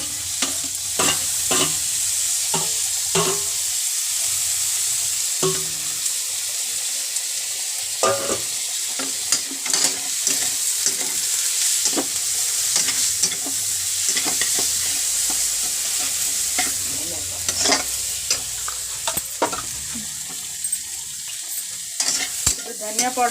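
Onions and tomatoes fry in a pan for egg curry with a steady, close hissing sizzle, broken by frequent scraping and clinking stirs of a spoon against the pan, with no talking.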